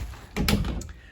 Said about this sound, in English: But the door closes